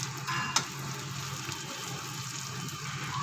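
Cumin seeds drop into a pan of frying ginger for butter paneer and sizzle in a steady, moderate crackle, with a faint clink near the start.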